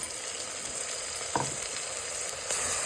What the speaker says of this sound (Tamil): இப்போது இந்த ஸ்டேஜில் அரைச்சி வச்ச தக்காளியை போட்டுக்கணும்.